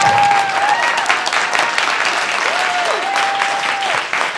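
Sustained audience applause fills a CreativeMornings Chicago talk venue, dense and steady for several seconds, with voices whooping and cheering through the clapping.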